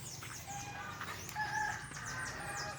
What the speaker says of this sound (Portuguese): As galinhas já estão lá limpando.